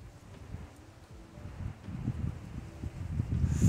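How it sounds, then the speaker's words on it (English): Wind buffets the microphone outdoors on a cold day, a low rumbling gusty noise that gradually grows stronger over a few seconds with no one talking. "Man, it is getting windy."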